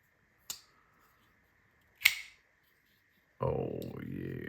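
Kansept folding knife flicked open twice, each a sharp, close detent snap with a short ring, separated by quiet; a loud broadband rush of handling noise follows.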